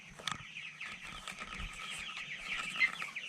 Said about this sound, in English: First thing I have to do is feed these chickens.